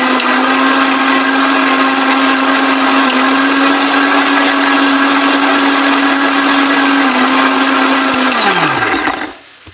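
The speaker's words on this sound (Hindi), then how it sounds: "ये पीस लिया बस, तभी ये मिक्सर में मिलेगा। कितनी तो टमाटर पीसना बाकी है।" A kitchen mixer grinder grinds tomatoes with a loud, steady whirring drone that runs continuously before the motor winds down and stops near the end.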